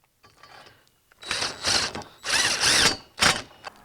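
A power drill whirs in three separate bursts, driving long 3-inch lag screws into the end grain of a wooden gate frame, each run rising in pitch and pausing between, loud and close with no talk.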